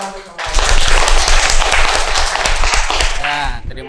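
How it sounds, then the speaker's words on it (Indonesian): A group of people clapping together in a classroom, a loud, dense round of applause that starts suddenly, holds steady, then thins out, with voices mixed in. "tepuk tangan untuk semua"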